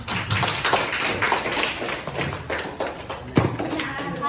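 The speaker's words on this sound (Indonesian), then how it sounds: "Tepuk tangan untuk semuanya." Students in a classroom clap for everyone, giving scattered, uneven handclaps and a few thuds over several seconds, with faint voices mixed in.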